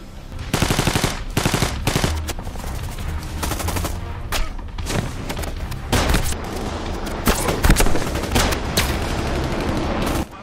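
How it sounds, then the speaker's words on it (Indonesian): A film gunfight in which rapid machine-gun bursts and single gunshots crack repeatedly in uneven clusters, loud and dense, with occasional heavier booms over about ten seconds. "hingga baku tembak pun terjadi"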